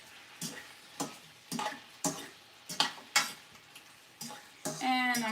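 Shrimp frying in an oily pan beside green beans, a faint background sizzle punctuated by regular sharp clacks and scrapes of a utensil against the pan, with a brief louder burst at the end.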